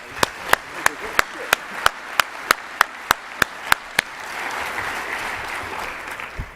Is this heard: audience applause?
yes